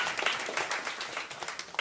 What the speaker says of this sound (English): let's give a round of applause for Barry Gordy and Motown